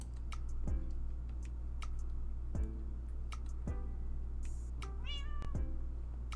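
A cat in a video game lets out several separate meows spaced a second or more apart over a constant low hum, with faint ticking clicks in between and no speech.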